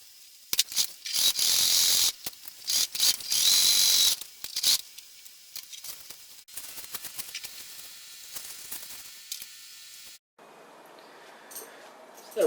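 A Singer Heavy Duty 4411 sewing machine stitches a bag hem in loud, fast whirring runs broken by short pauses, then settles into quieter mechanical clicking and handling noise nearby.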